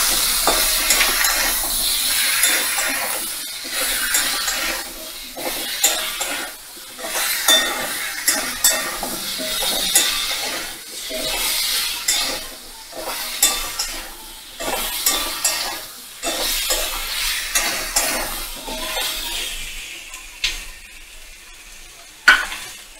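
Ginger-garlic paste frying in a pan, with a loud, continuous sizzle and repeated stirring scrapes throughout, punctuated by occasional clinks of the spoon.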